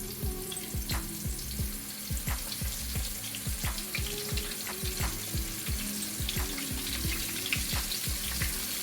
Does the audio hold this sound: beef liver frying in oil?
yes